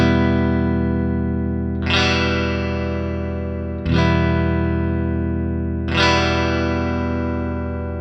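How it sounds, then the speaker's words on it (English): Electric guitar strummed three times with a pick, first in one extreme position and then in the other, each full chord ringing out long and loud before the next stroke, with no voices. "The electric guitar."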